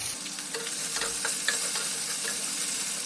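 Fried potatoes get stirred in hot oil with a little salt, a steady close sizzle broken by soft scraping and clinking of the spatula against the pan, no voices.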